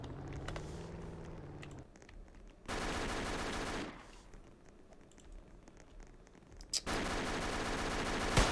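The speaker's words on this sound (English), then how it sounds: "Just shooting for no reason." Gunfire in the Roblox ERLC video game, with dense bursts of rapid automatic shots in separate volleys broken by quieter gaps, loud and close.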